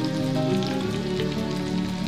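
Okra (lady's finger) frying in a pan with masala, a steady close crackling sizzle, like light rain on a surface, running throughout with no speech.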